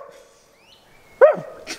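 A dog gives one loud, sharp bark close by, followed by a shorter, fainter yelp, with a faint steady hum underneath.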